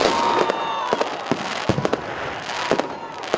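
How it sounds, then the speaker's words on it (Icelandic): A large firework explodes in the middle of a New Year's Eve crowd, giving a rapid series of loud, sharp cracks and bangs over a dense background of crowd noise and further fireworks. "Stór flugeldur sprakk inn í miðri mannþrönginni"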